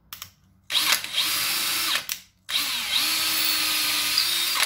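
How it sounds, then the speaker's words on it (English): A power drill bores into wood while a small harp is being built, two sustained whining bursts separated by a brief pause, close and loud with no talking. "so we'll just go ahead and do the drill again"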